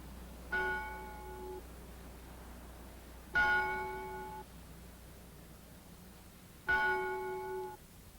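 Bells of a Swiss clock tower chime the hour, three slow, evenly spaced ringing strikes that each ring out and decay over a low steady background hum.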